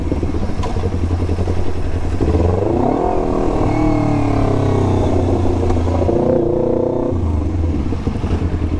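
Motorcycles and cars sit in a traffic jam on a road, engines droning and revving close by, with one engine rising and falling in pitch over a steady rumble, loud and continuous without speech.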